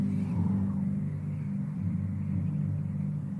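Low, steady engine rumble from a car in Call of Duty Mobile, an even idling drone held at moderate level with no speech over it.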